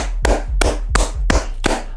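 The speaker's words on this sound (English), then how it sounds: "So I'm gonna just clap with my hands." Five loud hand claps ring out at a steady, unhurried pace, close to the microphone with no talking.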